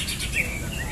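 Green leafbird (cucak hijau) singing at a songbird contest, bright rapid chirps and whistles over a busy crowd background.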